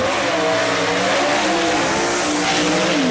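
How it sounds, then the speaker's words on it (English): A Chevy B/Gas gasser drag car leaves the line at Kil-Kare Dragway with a long smoky burnout, its engine blaring loud and continuous with a hint of tire squeal. "Rod Bergner, the Iceman, with a long smoky dig right there in his little Chevy too."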